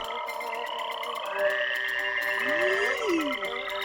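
Several frogs croak and trill together, nearby, with overlapping rising calls standing out above a quiet, steady background chorus.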